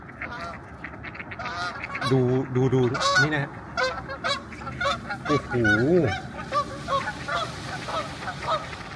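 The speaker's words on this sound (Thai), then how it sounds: "อันนั้นห่านนะครับ" Geese honk repeatedly at a close-to-moderate distance outdoors in Canada, a series of loud nasal calls in uneven bursts, with a voice briefly speaking among them.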